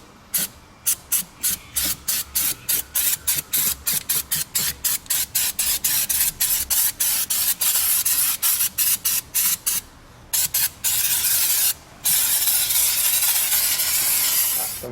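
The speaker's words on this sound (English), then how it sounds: "obviously contact adhesive on there. We'll spray this bit first, stick it down" Contact adhesive sprays onto car carpet inside a Toyota Prado in rapid, close hissing bursts, dozens of short sharp spurts with tiny gaps, ending in a longer steady spray, with no voices.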